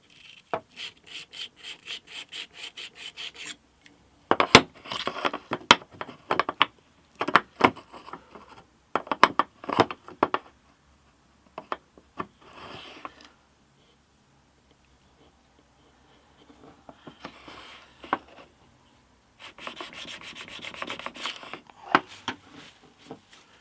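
A blade is rubbed back and forth on a 250 grit sharpening stone in bursts of rhythmic, gritty rasping strokes with short pauses between sets, fairly close and clear, no talking.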